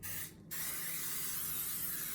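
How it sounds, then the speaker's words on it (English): A steady, close aerosol cooking spray hisses onto a cake baking pan in two bursts with a brief pause between, no voices. "I'm going to spray this down really, really good"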